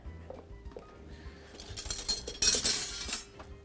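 A small whisk stirs dry ingredients seasoned with salt and black pepper in a bowl for Moroccan potato balls, giving quiet, uneven clinks and light metallic scraping that swell briefly near the end, with no talk.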